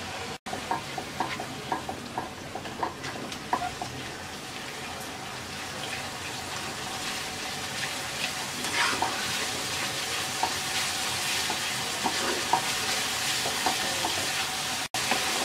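Spice paste of chili powder, turmeric and salt sautéing in a pan for jackfruit-seed and dried churi fish shutki, a steady sizzle and fry with scraping stirs throughout, close and moderately loud, no talk.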